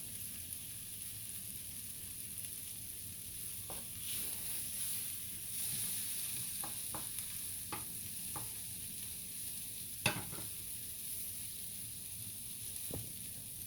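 Potatoes and onions fry in a skillet with margarine, giving a steady, quiet sizzle with a few sharp clinks and taps of a utensil scattered through it.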